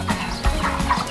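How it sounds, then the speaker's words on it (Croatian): Hens cluck in a children's farm-animal counting program, a brief run of close, clear clucks in quick succession with no other sound. "7 kokoši."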